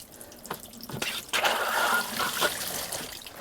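Water gushes and splashes steadily into a pool pump's filter basket through a cracked-open valve, with a few sharp knocks and gurgles as it fills.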